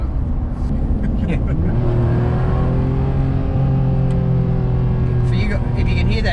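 A Ferrari 599 engine hums loudly and rises in pitch as it revs to about 5,000 RPM, then drops back, with a steady cabin rumble and talking over it.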